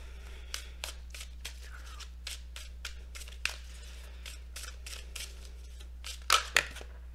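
Oracle cards being shuffled and handled during a tarot reading: a steady series of soft, crisp riffling flicks near the microphone, ending in two sharper slaps as the deck is squared, with no talking.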